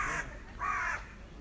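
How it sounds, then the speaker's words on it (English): A crow gives two loud, harsh caws close by, each about a third of a second long with a short gap, heard outdoors near a peaceful lake with no talking. "Black crow just crossed my path."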